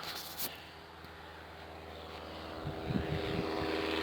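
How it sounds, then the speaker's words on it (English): Propeller airplane droning overhead in the woods, a steady broad engine rumble that swells slightly toward the end, with a few faint voice-like sounds underneath. "you want to watch the plane?"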